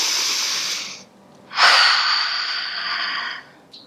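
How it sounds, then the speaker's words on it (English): Two deep breaths during a kids' yoga tree pose, a long airy exhale, a short pause, then a strong noisy inhale that trails off, close and clear with no talking. "Take a deep breath here."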